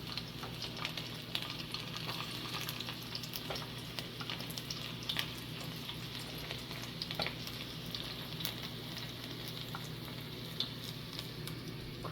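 Garlic frying in hot oil, a steady, quiet sizzle with faint crackles and pops running unbroken throughout.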